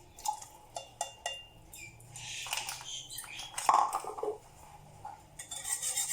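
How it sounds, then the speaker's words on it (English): A spoon stirs vanilla essence into an eggless semolina and coconut cake mixture in a bowl, making a string of sharp metallic clinks and taps against the bowl, then a busier scraping and clatter. "So I'm going to give this a little mix."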